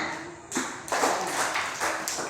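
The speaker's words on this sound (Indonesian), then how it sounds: "Oke, tepuk tangan." Classroom pupils clapping hands together after a teacher's prompt, a brief burst of scattered claps that swells a little and runs on steadily at moderate loudness, with no talking over it.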